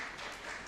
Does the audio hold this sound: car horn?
no